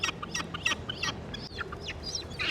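Large gulls in London, England, give a string of harsh, squawking calls close by, repeating in quick bursts over a steady outdoor background, with no talking.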